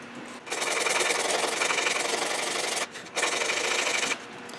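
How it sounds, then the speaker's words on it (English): Homemade 60-grit sandpaper rasp filing the edges of a 1967 Gibson EB-0 bass body, a loud, steady scratchy rasping that pauses briefly once and then stops. "Now I made a little 60 grit rasp kind of deal."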